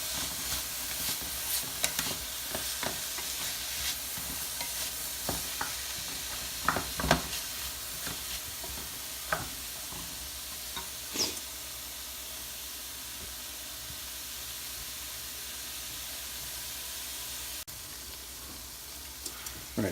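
Chopped vegetables cooking down in a pan before orzo goes in, a soft continuous sizzle and hiss with scattered light pops and stirring scrapes, fairly quiet, no talking.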